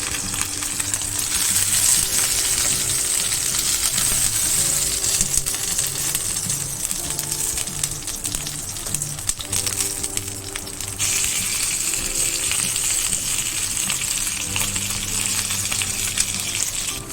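A thick sous vide tomahawk steak sears in a hot pan, a loud continuous sizzle with popping and spitting fat that shifts in intensity as the meat is turned, close up and without any talk.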